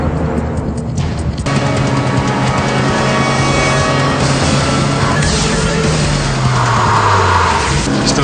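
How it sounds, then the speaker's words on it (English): Car chase from the movie Treasure Raiders, with roaring engines, revving and screeching tires over a loud, dense mix of action noise that runs without a break. "You know what this movie needs? A gratuitous car chase."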